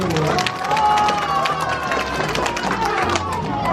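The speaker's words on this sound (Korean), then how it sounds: "박수 박수 박수" An audience claps at a volunteer magic troupe's show in Daejeon: dense, steady applause fills the whole stretch, with a voice speaking over it.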